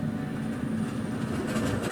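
A passing train in a TV drama scene, a steady loud rumble of rail wagons holding throughout with no voices over it.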